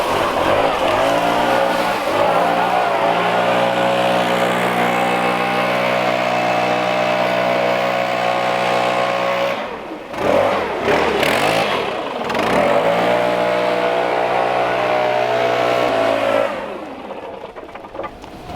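A STIHL BR700 backpack leaf blower runs with a loud, steady droning engine roar, briefly dropping and surging around the middle before settling back to a constant tone.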